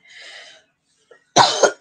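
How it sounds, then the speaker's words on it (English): A few harsh coughs close by, a short airy throat sound first, then a brief pause before sharp bursts of coughing. "excuse me coughing and spluttering"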